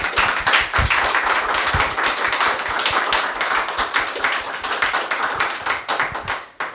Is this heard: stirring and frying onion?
no